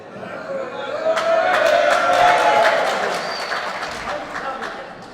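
Crowd at an All-Ireland 4-Wall men's handball final cheering and urging on a Clare player, a swelling roar of voices that peaks midway and then eases, with sharp ball and court impacts cutting through.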